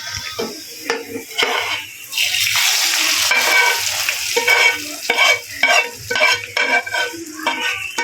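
Onion and garlic sizzle in hot mustard oil while a spoon stirs and scrapes the pan in quick, clattering strokes.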